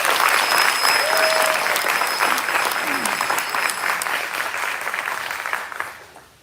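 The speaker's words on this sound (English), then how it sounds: "Let's give them another round of applause." Sustained applause from an audience at a sheriff's office community briefing, loud and steady for about six seconds before fading out at the end.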